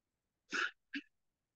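Two quick sneezes close by during a calculus lecture, a loud burst followed by a shorter, softer one, then silence.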